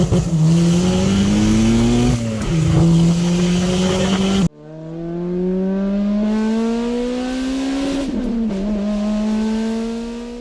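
A turbocharged Toyota MR2 Spyder with a swapped Honda K24 engine revs loudly and close, its pitch climbing steadily, dipping, then climbing again after a sharp cut, with no talking.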